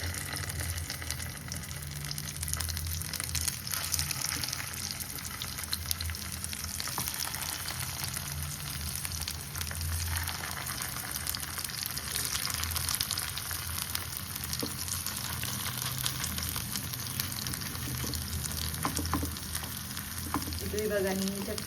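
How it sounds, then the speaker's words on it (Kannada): Thin potato tikkis shallow-fry in oil in a pan over a medium flame, giving a dense, continuous close sizzle with fine crackles that holds steady and unbroken the whole time, alone without speech. "ಇವಾಗ ನೀಟಾಗಿ ಫ್ರೈ ಆಗಲಿ."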